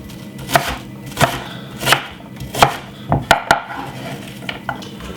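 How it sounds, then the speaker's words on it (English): A knife chops through half a white onion on a cutting board in steady, close, distinct strokes, about eight sharp cuts with faint kitchen clatter between them and no talking. "Right here I have half of a white onion, which I'm going to be cutting up also to put in it."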